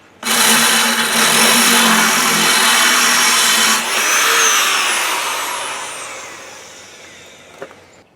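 A power drill bores holes in GFRC glass fiber reinforced concrete for a sink, a loud continuous grinding whine that runs several seconds, dips briefly, then slowly winds down and fades, with no talking.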